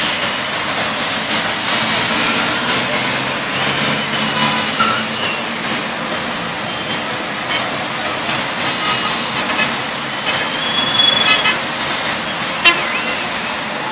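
Road traffic at the Cevizlibağ metrobus stop in Istanbul forms a continuous busy rumble of passing vehicles with a few short car horn toots, heard from a moderate distance and rising slightly near the end.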